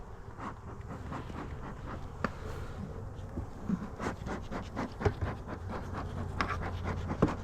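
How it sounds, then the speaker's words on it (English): Busy honeybees at a hive entrance while supers are being added, a steady low buzzing hum with scattered close fly-bys crossing the microphone, nothing else in the way. "You want to see a hive that's active, and these guys are definitely active."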